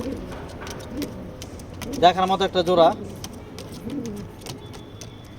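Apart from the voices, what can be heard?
racing pigeons cooing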